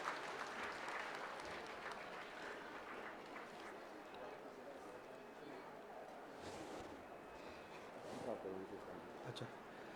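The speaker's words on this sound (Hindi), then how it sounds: "आप सभी से आग्रह जोरदार तालियों के लिए रहेगा।" An audience at the Manali Winter Carnival opening ceremony claps steadily in a dense, continuous wash of applause, heard faintly from a distance under a hall's general murmur, with a few voices near the end.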